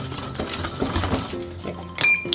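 Protein banana cake batter, made with okara powder, mixed in a bowl, with light clinks and scrapes of a utensil against the bowl in short irregular strokes close up, and a sharper clink near the end.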